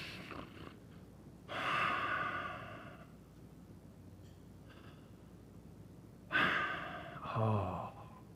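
A voice imitates the slow, heavy breathing of a small child fast asleep, with two long drawn breaths close up and quiet pauses between them, alone without talk.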